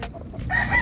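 A white kelso gamefowl rooster crows once nearby, a short raspy call rising toward its end, with no talk over it.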